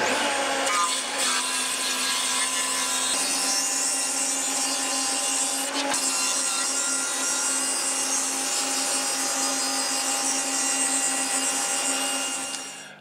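A power saw cuts the sides off a wooden workpiece, a loud, continuous high whine with rasping wood noise held steady for about thirteen seconds before winding down.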